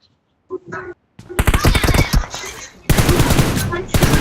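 Rapid automatic gunfire in a video game, bursts of dense, loud shots that start after a short spoken phrase and run in two long stretches with a brief gap between them.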